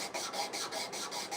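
A wooden handsaw handle is sanded by hand in steady, rhythmic back-and-forth strokes, a dry raspy scrubbing repeated about five times a second, close and moderately loud with no voices.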